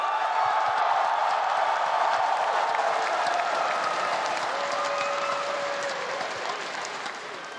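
A large esports arena crowd applauds League of Legends player Chovy at the 2025 MSI Grand Finals, loud continuous clapping that slowly tapers toward the end.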